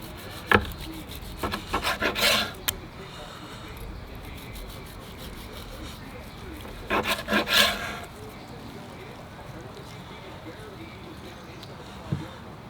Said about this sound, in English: Let's cut some slices. All right, let's start with some lean slices here.